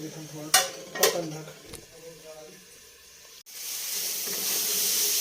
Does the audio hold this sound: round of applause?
no